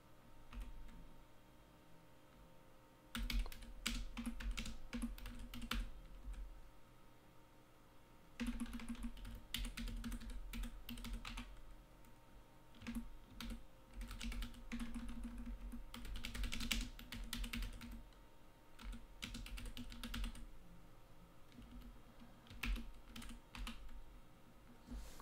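Quick bursts of close key presses come from a computer keyboard as a terminal command is typed, with short pauses between the runs of keystrokes and no talking.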